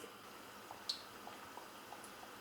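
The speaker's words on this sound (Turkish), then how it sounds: "5 dakika kadar her tarafının kızarmasını bekliyoruz." Thin çibörek dough frying in hot oil in a pan gives a faint, steady sizzling hiss scattered with small soft pops and crackles, with no voices.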